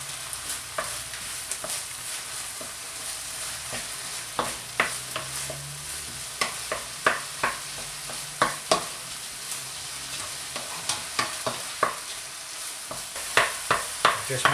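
Liver, kidney and blueberries being mashed and broken up in a pan, dog food in the making, with a run of soft wet squelches and sharp clicks of the masher against the pan over a steady low hiss, close and without talk.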